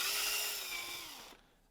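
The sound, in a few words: drilling out hole in 3D-printed part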